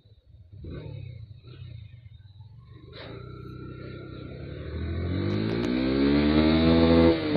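A Honda X-Blade and a Yamaha FZS V2 motorcycle launch in a drag race, engines rumbling low and then climbing steadily into loud, rising revs as they accelerate.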